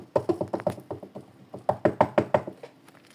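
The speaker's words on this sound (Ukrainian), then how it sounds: "Може постукати треба?" Knuckles rap on a village house door in two bursts of quick, evenly spaced knocks, about seven then five, sharp and close with a short pause between them.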